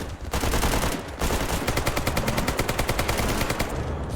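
Rapid automatic gunfire from a weapon in the VR game VR GAMMA, loud and close, with bursts of fast regular shots and a brief pause before the firing resumes.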